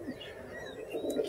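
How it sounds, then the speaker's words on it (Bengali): An Andhra breed pigeon gives a couple of soft, low coos at close range, faint against light background noise. "হ্যাঁ এটা অন্ধ্র পায়রা।"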